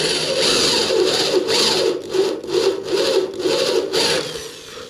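A factory drill bit bores out spot welds in car body sheet metal during bodywork repair, giving a steady close grinding whine that surges and eases in repeated pulses, with no talk.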